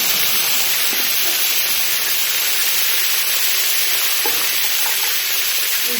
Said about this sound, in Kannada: ಈಗ ಎಣ್ಣೆಯೊಳಗೆ ಫ್ರೈ ಮಾಡ್ಕೊತೀನಿ.